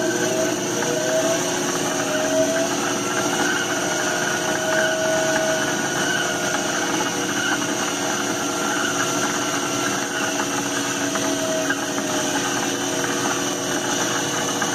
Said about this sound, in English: The slowest that this lathe would spin in its original configuration was 28 RPMs.